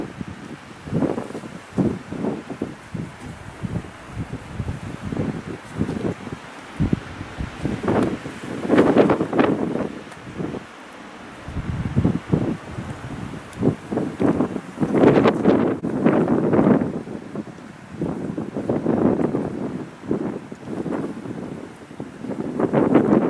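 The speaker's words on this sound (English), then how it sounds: "Now that the wind dies down, maybe I can" Gusty wind buffets the microphone at a highway rest stop along the Alcan Highway, swelling and easing in loud rushing bursts.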